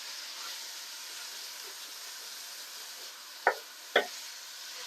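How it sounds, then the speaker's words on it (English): Minced lamb browning in a hot pan for spiced lamb lasagna, a soft continuous sizzle broken near the end by two quick, close scrapes of a utensil breaking up the meat, with no speech. "start breaking up that meat as it starts to brown"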